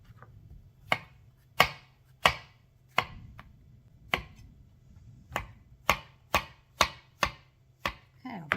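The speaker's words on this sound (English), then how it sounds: "I'm just going to cut up the mushrooms." Sharp knife strikes chopping mushrooms on a cutting board, about a dozen crisp knocks at an uneven pace, close and clear over a low steady room hum, no voices.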